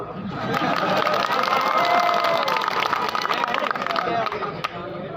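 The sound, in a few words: crowd applauding at a rally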